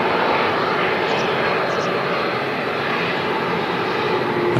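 A jet airliner lands at Manchester Airport, its engines a loud, continuous broadband roar with reverse-thrust rumble, steady throughout from nearby.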